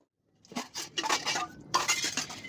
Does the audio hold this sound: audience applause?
no